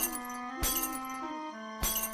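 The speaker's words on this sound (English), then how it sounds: "She smashed all light bulbs so that nobody could see her face at night." Glass light bulbs shatter in two sharp, loud smashes about a second apart, each a brief crash over a steady tonal musical backdrop.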